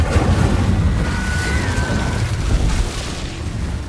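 The Incendio fire spell in Hogwarts Legacy bursts out as a loud, rumbling whoosh with a brief rising tonal streak, a dense fiery roar that tapers off over a few seconds.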